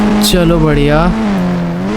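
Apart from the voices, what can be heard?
car driving in Indian Bikes Driving 3D video game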